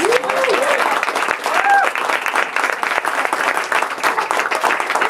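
Warm, sustained clapping fills a bookstore as the crowd applauds high school poetry contest winners, loud and even, with a brief whoop or cheer near the start.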